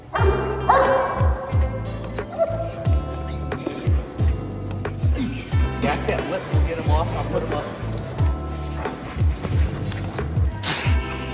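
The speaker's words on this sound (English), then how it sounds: "You got a Rottweiler, Wayne?" A Rottweiler barks repeatedly in a steady, rhythmic series of loud, close barks at an evening event, with people talking over and between the barks.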